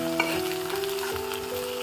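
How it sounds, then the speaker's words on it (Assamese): Rice and fish belly frying together in hot oil, a steady close sizzle with stirring scrapes throughout and no talking. "ভাতখিনি যেতিয়া পেটুৰ লগত ভাজোতে"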